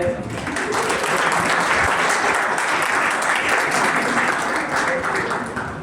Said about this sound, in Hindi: तो इनके लिए एक जोरदार तालियां।